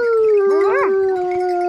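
Hunting dogs howl during a wild boar hunt, a near, loud, sustained howl with rising and wavering overlapping voices from several dogs, running continuously through the short moment with no talk.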